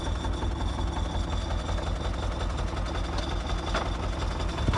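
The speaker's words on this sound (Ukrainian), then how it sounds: "Зараз буде насілування трактора." A YuMZ tractor engine runs steadily while plowing a vegetable plot in rough conditions, a continuous low, throbbing drone with a rapid chugging pulse, close and fairly loud with no talk.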